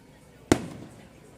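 A single carnival firework goes off at a distance, one sharp bang with a short fading echo, faint background chatter around it.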